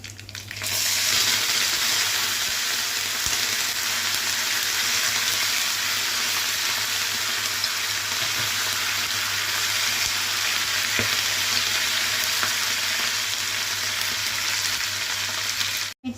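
Green chilies and curry leaves fry in hot oil for pulihora, a loud, steady close sizzle that hisses continuously for the whole stretch, with a faint low hum beneath and no talking.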